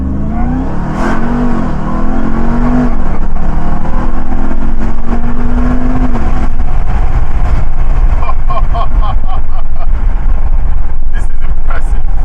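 A 702-horsepower 2021 Ram TRX pickup launches under launch control at full throttle, its engine roaring loud and close as it climbs through rising revs and a gear change, with a steady wall of engine and road noise throughout.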